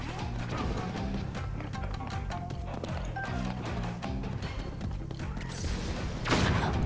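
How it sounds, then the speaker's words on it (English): Cannons fire in The Legend of Zelda: Tears of the Kingdom, a rapid run of sharp booming blasts repeating through the whole stretch, ending in a louder burst near the close. "Didn't realize you have cannons"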